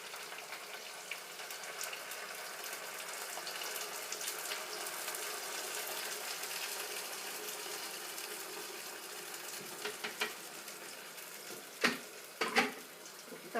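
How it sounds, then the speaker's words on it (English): Mixed pepper frying in a pot for jollof rice, a continuous close sizzle and crackle with a few sharper spits and pops toward the end. "If you come closer, you can just see that the mixed pepper is frying."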